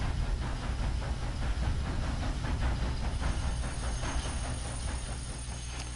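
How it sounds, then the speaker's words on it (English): A train rolls along in Red Dead Online, giving off a steady, loud rumble with hissing steam and a faint rhythmic clatter that holds throughout. "Let's see if this train's being driven by Casper."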